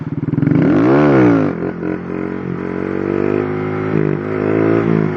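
A Honda Grom motorcycle at wheelie practice revs up hard close by, the engine pitch climbing and falling back, then it drones on steadily with smaller throttle swells and no talking.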